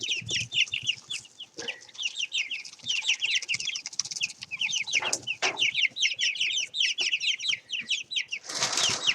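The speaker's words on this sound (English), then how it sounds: "Chicken Squawk Show, since that's the sound they're making nowadays" Young chickens squawk and cluck in a rapid, continuous chorus, with a few wing flaps and rustles breaking through near and loud.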